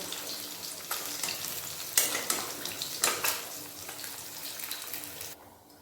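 Pabda fish frying in a pan gives a steady, close hiss of hot oil, with sharper sizzling bursts as the pieces are stirred and turned. The sizzle drops away sharply just before the end, and no one speaks.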